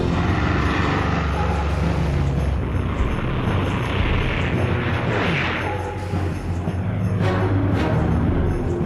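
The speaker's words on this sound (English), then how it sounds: "Shortly afterwards, Nasser hears planes in the skies above Cairo." Aircraft passing over Cairo on an October evening, a loud sustained engine roar with a rising and falling rumble that fills the whole stretch.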